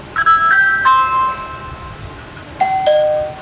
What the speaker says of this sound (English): when you press the doorbell outside, it chimes inside on your home doorbell, but it also rings outside